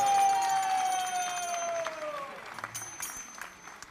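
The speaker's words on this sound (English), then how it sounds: "Let's give them a big round of applause." Wedding guests clap after the second circling round of a Hindu wedding ceremony, a moderate wash of applause beneath a held tonal voice or instrument that slides downward, thinning out toward the end.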